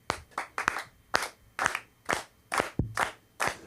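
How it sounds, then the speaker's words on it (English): Comedy show audience claps in unison, about a dozen sharp group claps in a loose steady rhythm, close and loud with brief gaps between. "So everybody, let's clap."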